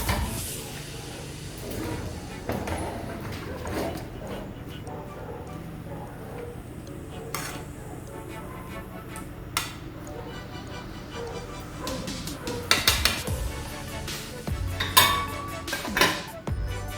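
A cooking pot used for rice is handled during a Jamaican stewed peas preparation, giving scattered faint metallic clanks and clinks over a quiet, ticking kitchen background, with a few louder knocks toward the end.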